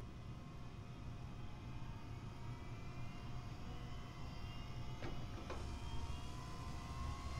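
A superlaser charging up in the space-building game Space Engineers: a loud, steady whirring drone like a jet engine, with two brief sharp crackles near the end.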